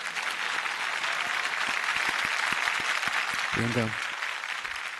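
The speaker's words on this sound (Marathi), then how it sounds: "एकदा त्यांच्यासाठी जोरदार टाळ्या." Studio audience applause rings out for the top four contestants of a Marathi singing competition, a steady wash of clapping lasting several seconds while a host's voice speaks briefly over it.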